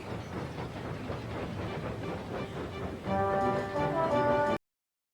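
A steam engine chuffs and clatters rhythmically along a railway line, its wheels clicking over the track, then a sustained whistle sounds loudly for the final second or so before the sound cuts off abruptly.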